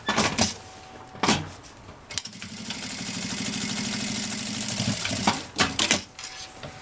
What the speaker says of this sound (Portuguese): vou medir e fazer a mesma costurinha do lado de cá